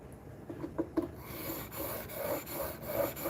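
A steel chisel being honed on a 3000 grit sharpening stone, giving a steady close rasping rub with a few sharper strokes early on, alone with no talk.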